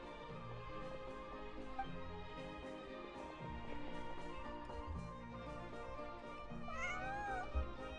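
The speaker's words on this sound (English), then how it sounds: "Northland cat." A cat meowing in the video game Genshin Impact, a short meow and a drawn-out cry over a soft game music background, fairly quiet.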